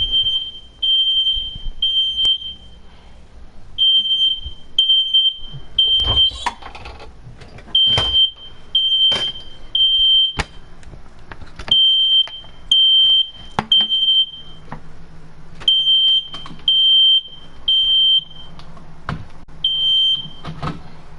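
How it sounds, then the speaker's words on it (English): A household smoke alarm chirps in repeated short high beeps, clustered in bursts with brief gaps, loud and near, alongside scattered clicks and knocks throughout. "My smoke alarm was going off."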